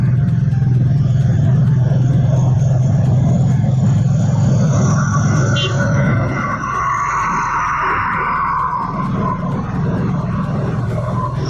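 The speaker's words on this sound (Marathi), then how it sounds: "आता आपण लालपरीला ओव्हरटेक करूया." A motorcycle overtakes an MSRTC Lalpari bus on a winter ride toward Konkan. Loud steady engine and wind roar fill the whole stretch, with a heavier passing rumble and rising whoosh midway as the bus is cleared.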